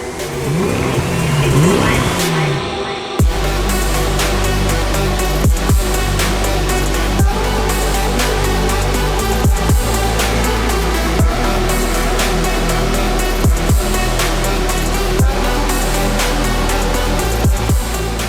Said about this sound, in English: it has an amazing V10 that will give you thrills while driving